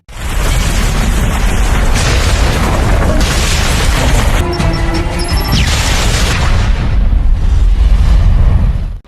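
A huge action-film explosion booms loud and close, a sustained roaring blast with crashing debris that rolls on for several seconds before cutting off.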